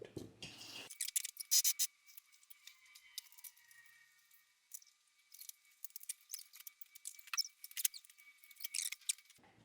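Electrical tape is wrapped around an airsoft AEG inner barrel, quiet crinkling and peeling of tape in short irregular bursts, close up, with a brief silent pause in between.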